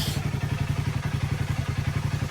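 A motorcycle engine idles just after starting, with a steady, fast thumping beat close by and loud, holding an even rhythm throughout.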